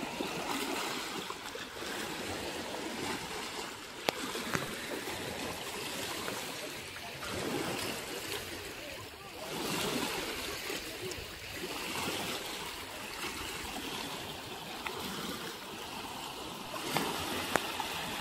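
Strong water rushing through the backwater of Nagarjuna Sagar Dam with its gates open, a steady broadband roar of flowing water heard outdoors, continuous and fairly loud throughout.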